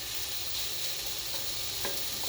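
Mushrooms and leftover noodles fry in a pan, giving a steady close sizzle with light clicks and scrapes from stirring. No one speaks.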